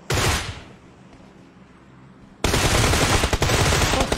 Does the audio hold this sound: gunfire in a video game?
yes